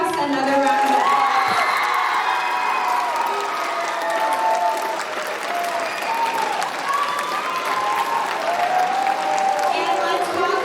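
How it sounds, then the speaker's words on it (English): A school audience applauds and cheers a high school student team at a case challenge, with sustained loud clapping, whoops and shouts mixed with crowd voices throughout. "Let's give Savage House another round of applause."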